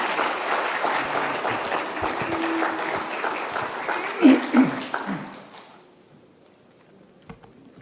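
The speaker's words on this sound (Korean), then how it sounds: "우리 나오실 때 한번 박수로 환영해 주시기 바랍니다" A church congregation at a Sunday worship service applauds to welcome a visiting pastor, giving several seconds of loud, even clapping that swells, peaks with a few sharp knocks, then fades away into quiet.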